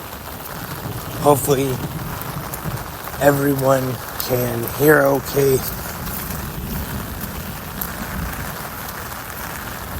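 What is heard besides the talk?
rain on a rainy morning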